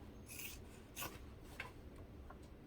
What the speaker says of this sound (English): I'm going to trim some seam allowances, but not from the hole area.